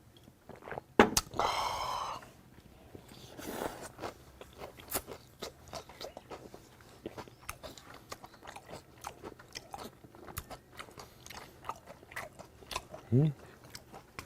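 Crunchy chewing and biting of raw onion close to the mic, repeated wet crunches over a quiet background with a few sharp clicks.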